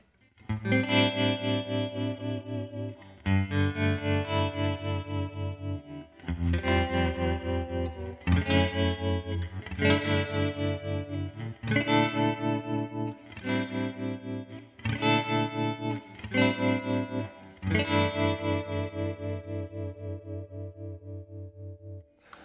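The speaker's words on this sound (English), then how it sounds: "I got to turn on the tremolo because this is just going to sound really nice" Electric guitar chords ring out one after another, each sustained note pulsing rapidly in volume with a wavering tremolo, played alone with gaps between strums.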